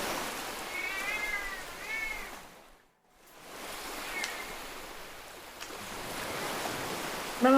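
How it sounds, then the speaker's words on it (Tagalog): Several cats meow in short, wavering calls over a steady rushing background like wind or surf, with a brief lull in the middle. "Mga pusa,"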